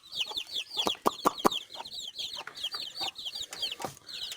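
A hen with her newly hatched chicks clucks close by while the chicks cheep high and fast in a busy, overlapping chatter, moderately loud throughout.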